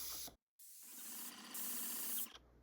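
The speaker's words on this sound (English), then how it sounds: "Since I've never used a spray gun and Tim has a new one, we decided that Tim would paint" A new paint spray gun spraying exterior house body color onto fascia and wall: a brief cut-off, then a steady close hiss of atomized paint rising in strength for under two seconds before stopping.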